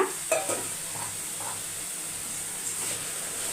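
Ground paste and slit green chilli going into a hot pan for mushroom gravy, giving a steady close sizzle and hiss with a few brief stirring scrapes near the start, no talk over it.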